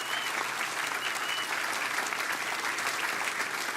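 A crowd at a Veterans Day observance applauds in a continuous, dense round of clapping, steady and fairly loud throughout with no talking over it.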